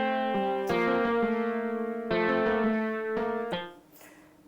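MIDI acoustic guitar run through a vintage drive pedal effect, a few strummed chords each ringing out with a slightly buzzy, processed tone, close and alone, fading near the end.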